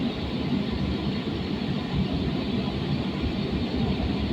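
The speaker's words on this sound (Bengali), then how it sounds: "ট্রেন এখন স্টেশন ছেড়ে বেরিয়ে গেল" A Kolkata Orange Line metro train pulls out of a station, giving a steady, loud rumble of wheels and motor with broad rushing noise that holds evenly throughout, with no voices.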